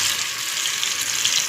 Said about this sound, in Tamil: நம்ம பேன் எடுத்து எண்ணெய் ஊற்றி நம்ம வந்து மீனை போட்டுட்டு வறுக்க போகிறோங்க